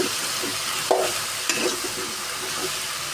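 Spices sauté in a pan with salt, turmeric and chili, a dense continuous sizzle broken by two sharp stirring clanks of a utensil against the pan; no voices.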